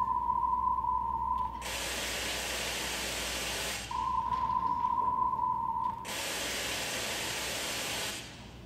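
Broadband hiss-like test noise bursts, two loud wide bands lasting about two seconds each, alternating with a quieter steady tone, with no talking.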